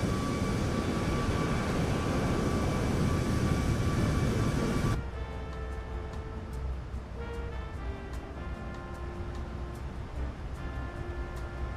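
A steady jet engine roar from a Boeing 737 in Microsoft Flight Simulator 2024 fills the cabin, a broad loud hiss that drops suddenly to a quieter, muffled hum with faint steady tones and small clicks.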